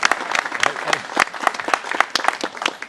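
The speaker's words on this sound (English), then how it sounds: "So big round of applause to them" Guests at Camp Hawthorne's 100th anniversary plaque ceremony clap for the host family, an outdoor-sounding burst of fairly sparse, distinct handclaps with uneven rhythm, no voices over it.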